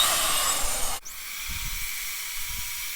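A die grinder carves into dry wood for a chainsaw-carved snowman, a steady high hiss that cuts off abruptly, followed by quiet bumps and handling noises.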